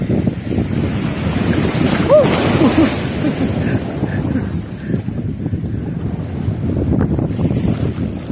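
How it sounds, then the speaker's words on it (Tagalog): Strong wind while fishing at sea buffets the microphone in a constant roar, with water and a boat's hum faintly underneath. "medyo na malakas na rin po yung hangin po mga kaidol"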